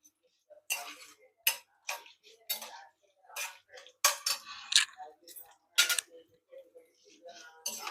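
Boiled jackfruit seeds frying in a pan, heard as sharp sputtering pops and crackles in irregular bursts, close and fairly loud against an otherwise quiet background.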